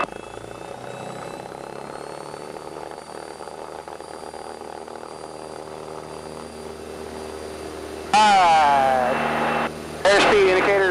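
A light training aircraft's engine drones steadily while lined up on the runway, its pitch rising slightly as power comes up for the takeoff run, with voices talking over it near the end.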